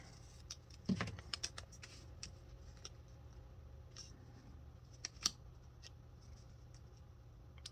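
Scissors cut paper for a calendar spread in a quiet room, producing a few faint, close snips and rustles, with a cluster of sharper cuts near the start and another later.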